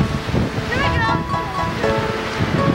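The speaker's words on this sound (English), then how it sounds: "Oh, big wind. Oh, almost gonna blow him over." Strong wind gusts roar across a ski slope at Mammoth, a steady broadband rush of buffeting against the microphone that stays loud throughout while a voice speaks over it.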